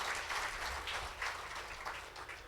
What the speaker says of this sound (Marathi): त्यांचा जो टीम आहे त्यांच्यासाठी तुम्ही सर्वांनी टाळ्या वाजवून त्यांचं प्रोत्साहन करून घ्यावं.